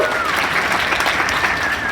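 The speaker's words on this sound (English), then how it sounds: "Let's give them both a huge round of applause." An audience at a puppet slam claps and cheers, with dense, steady applause filling the room throughout and a few whistles rising above it.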